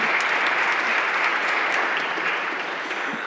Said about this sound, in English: Let's give him a round of applause, John Barnes Jr.